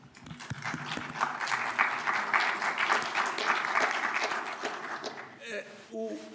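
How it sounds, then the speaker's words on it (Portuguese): A conference auditorium audience breaks into applause that builds quickly, holds for several seconds and then fades. A voice starts speaking as the clapping dies away. "gostava de propor aqui uma salva de palmas para todos"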